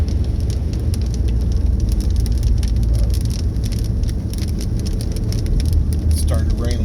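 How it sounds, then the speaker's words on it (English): Steady rain falls hard and continuously, a dense loud patter with a low rumble underneath, and a voice is briefly heard near the end. "It's starting to rain a little bit harder."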